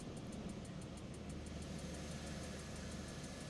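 A Milviz Pilatus PC-6 Porter's turboprop engine running in MSFS 2020, heard from outside the aircraft as a steady, even drone that never changes, with no voices.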